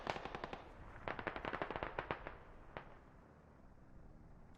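Rapid bursts of A-10 aircraft cannon fire in the Squad video game, set on the Gorodok map, heard as a quick string of sharp cracks followed by a few scattered shots, at a moderate distance.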